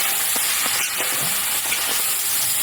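Bay leaf, whole cumin and sliced onion frying in hot mustard oil for a meat dish, a steady close broadband sizzle with a few sharper crackles and spoon stirring, no voices.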